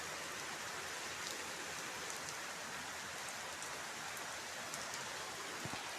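Heavy rain pours down in a steady, dense hiss of drops striking surfaces, continuous and evenly loud from start to finish, with no voices.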